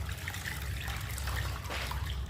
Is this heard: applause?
no